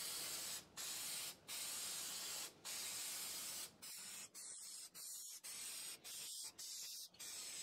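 Glossy Plasti Dip sprayed from an aerosol can onto a car grille on a DMAX, heard as close hissing bursts: several long sprays first, then a run of shorter quick bursts with brief gaps.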